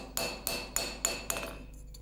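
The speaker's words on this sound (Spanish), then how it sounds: "un tratamiento especial de enderezado, a golpes de martillo en el yunque" Five sharp metallic hammer blows strike a knife blade on an anvil during straightening, each clear ringing clink evenly spaced and close, with a brief decay before the next.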